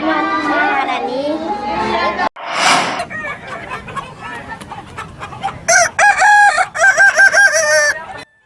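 Balengge roosters crow repeatedly at a crowing contest in Padang, with loud, drawn-out cock-a-doodle-doo calls overlapping from several birds, near and far, mixed with clucking and crowd chatter, and a person talking at the start.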